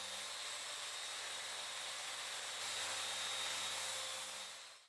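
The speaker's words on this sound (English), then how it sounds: "so I used my sander to sand out the burn marks and get a smooth edge" An electric sander smooths miter-saw burn marks from a wooden edge in a workshop, a continuous close whirring hiss with a slight rise partway through before it winds down.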